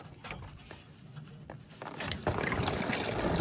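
Coolant water trickles and splashes out of a hose removed from a VW Polo 1.2/1.4 TSI engine during a service, starting faint and growing louder and more spattery toward the end, close by, with small handling clicks and no talking.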